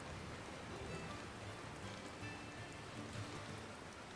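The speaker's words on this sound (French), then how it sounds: "Allez, bingo, il pleut." Steady in-game rain from Pokémon Scarlet falls as a soft, even hiss of drops for the whole stretch, quiet and unbroken, with no voices over it.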